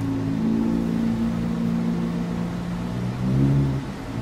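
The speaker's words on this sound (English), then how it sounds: "the cars on my street are for some reason so loud" Loud cars passing along a residential street make a steady, close engine rumble that swells briefly near the end.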